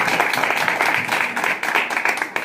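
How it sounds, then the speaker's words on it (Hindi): A group of schoolchildren in a classroom claps together, a dense, continuous patter of hands held at an even level for a couple of seconds. "चलो बहुत अच्छा, ताली बजाओ आप लोग।"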